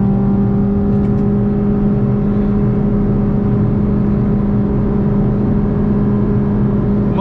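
A Mitsubishi Lancer with a CVT gearbox pulls hard down a hill, its engine holding one steady droning whine at near-constant pitch, heard loud from inside the cabin.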